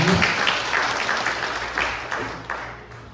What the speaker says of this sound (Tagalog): Minsan pa nga po malakas na palakpak para sa Panginoon.